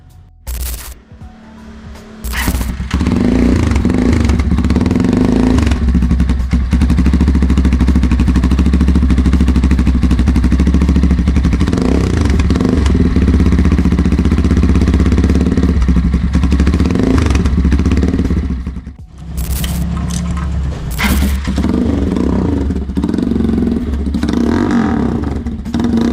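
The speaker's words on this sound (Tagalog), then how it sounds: "ipaparinig ko na sa inyo yung difference ng tunog ng stock pipe at ng bago nating exhaust" A Motorstar Explorer 250 V2 motorcycle with an SC Project slip-on exhaust revs repeatedly at close range, its exhaust loud, deep and throaty, with brief pauses and a few clattering thumps between bursts.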